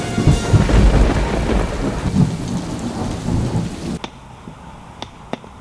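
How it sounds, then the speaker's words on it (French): A summer thunderstorm on a bike route between Lyon and Venice: heavy rain pours with rumbling thunder, loud and close, then cuts to a quieter stretch with scattered drips and taps. "c'est à ce moment-là que les orages commencent"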